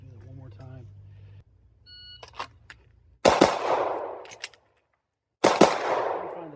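Double shots from a Glock pistol with an aftermarket trigger, heard as two loud, sharp close reports a couple of seconds apart, each ringing out briefly and preceded by a shot-timer beep and low background noise.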